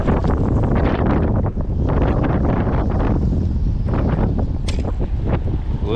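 Strong wind buffets the microphone on open water during a bass fishing outing with jerk baits, a loud continuous roar with gusty rumble and faint water and boat noise, no talking.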